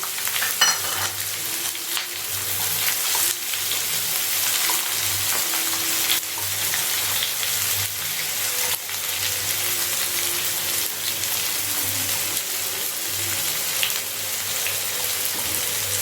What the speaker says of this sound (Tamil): நான் வெங்காயம் நாலு பெரிய வெங்காயம் கட் பண்ணி வச்சுருக்கேன் அதை ஆட் பண்ணுறேன்